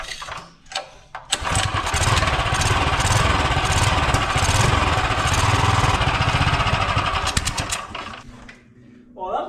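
A 212 Ghost small engine fitted with a 24mm D-slide carburetor and choke cranks, catches and runs loudly with a rough, throbbing roar for several seconds before cutting out, with brief sputters around it.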